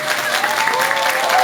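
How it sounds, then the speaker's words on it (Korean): Brief burst of dense audience applause right after a live pansori performance, loud and continuous, with a voice calling out faintly through it. "이제 박수를 치시면 됩니다"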